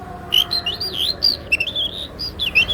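A person whistles an imitation of a lovebird call: a quick run of high, warbling chirps and tweets, fairly close and clear, with short pauses between phrases.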